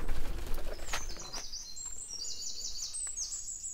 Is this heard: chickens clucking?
no